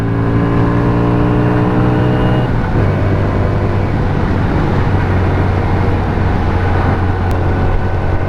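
An SSR Buccaneer 250 cafe motorcycle rides along a road, its engine droning loud and close with a steady hum that shifts pitch partway through as if changing gear, then keeps running evenly.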